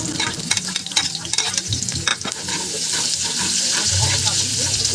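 Garlic and onion sautéing in a pan for spaghetti, giving a loud, dense sizzle and crackle throughout, with scraping stirs near the start and the frying growing steadier toward the end.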